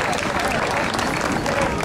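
Outdoor audience applause greeting folk music bands onto a green stage at the Esplanāde, a steady dense wash of clapping with crowd noise and some voices mixed in.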